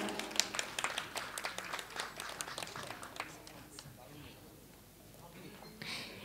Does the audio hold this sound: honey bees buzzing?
no